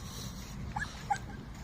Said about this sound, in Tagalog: dami ng aso rito